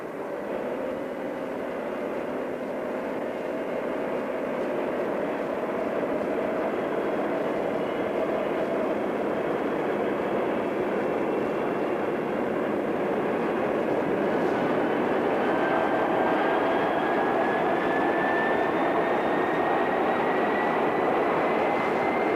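Fighter jets scramble at Elmendorf in Alaska, a loud, sustained jet engine roar with a rising whine climbing through the sound, steady and close throughout with no talk.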